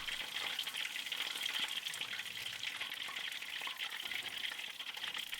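Thai chicken drumsticks deep frying in hot oil give a steady, dense crackling sizzle, evenly sustained at moderate volume with no talk.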